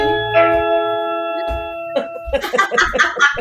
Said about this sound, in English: I love that doorbell.